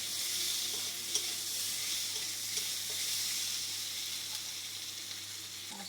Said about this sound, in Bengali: এবারে আলুর সাথে মশলাগুলো সব মিশিয়ে দেওয়া হলো